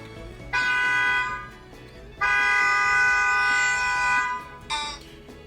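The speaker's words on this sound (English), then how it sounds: "A car horn." A car horn honks three times: two long blasts and a shorter final toot, loud and clear over quiet background, with no speech.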